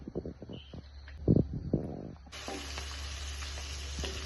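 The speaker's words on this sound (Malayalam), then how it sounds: "കറിവേപ്പില ഇട്ട് വെളുത്തുള്ളിയും ഇഞ്ചിയും ഇട്ട് ചെറുതായി അരിഞ്ഞു വെച്ചത്." Curry leaves, garlic and ginger frying in hot oil for a macaroni masala, starting with a few scattered stir clatters, then breaking into a loud, steady sizzle that runs to the end, close up with no talk.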